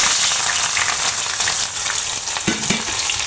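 Chopped garlic, onion and green chili sizzle steadily in hot oil for a shrimp dish, a loud constant hiss with a few spatula scrapes near the end.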